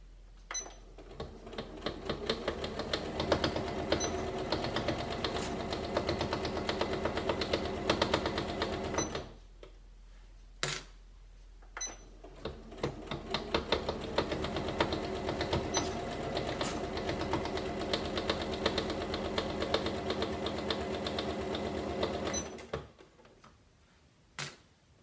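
A sewing machine stitches a patchwork cushion while running with an odd ticking, clattering fault after a broken needle. It whirs steadily, stops briefly, then runs again and winds down.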